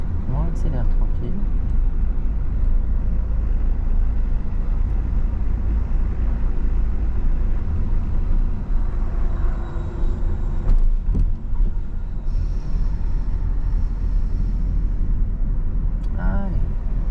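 A car accelerating gently during a driving lesson gives off a steady low engine and road rumble throughout, with people talking over it inside the cabin.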